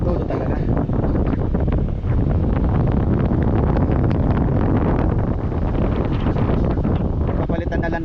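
Loud, steady rushing roar of the air conditioner in a 2020 GAC GN8 with a burning-smell fault, blowing at full power, filling the whole clip with dense broadband airflow.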